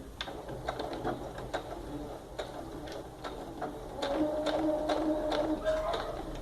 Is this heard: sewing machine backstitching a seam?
yes